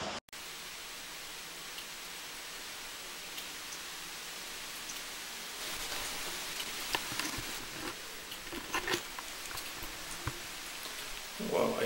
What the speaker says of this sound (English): I just want to let everyone know that it is raining outside.